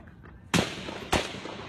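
Two sharp gunshots at a baseball practice, each a sudden loud crack with a short decaying tail, spaced about half a second apart over a low background hum.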